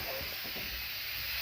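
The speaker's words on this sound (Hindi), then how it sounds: "अभी कुकर में सीटी आई है" A pressure cooker on a home kitchen stove lets off a loud, continuous hissing whistle of steam, close and unbroken for its whole length.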